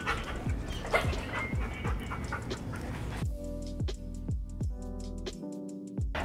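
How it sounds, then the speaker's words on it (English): A stressed, fearful doodle dog pants rapidly and rhythmically up close, with high whimpers mixed in, fairly loud and continuous with no talk. "So with a dog that's this stressed out,"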